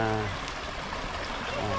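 A river stream flows beside a hiking trail in Hong Kong, giving a steady close rush and trickle of water throughout, with faint voice-like murmurs mixed into the flow.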